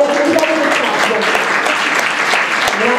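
Sustained audience applause for Paolo at a talk on label reading and home production, dense and steady throughout, with a few voices faintly mixed in.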